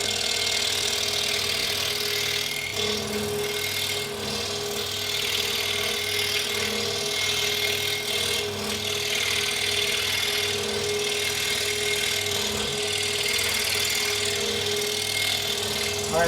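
A scroll saw cuts out a wooden name ornament, its steady motor hum and rapid blade chatter running continuously and fairly loud throughout without pause.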